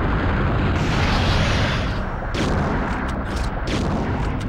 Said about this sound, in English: I'm just kind of firing blindly in the dark here